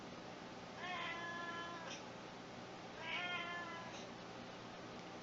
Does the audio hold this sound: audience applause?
no